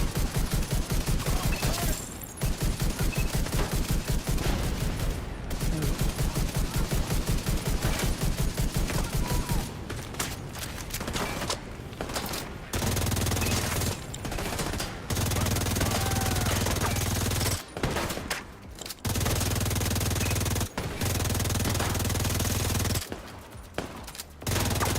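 Sustained bursts of automatic machine gun fire in a video game, loud and dense, with the shooting broken by several short pauses and a low rumbling background between bursts.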